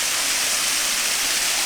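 Waterfall and creek at Tise Falls in a gorge at Hanging Rock State Park, North Carolina, heard close up as a dense, steady roar of falling water with no speech.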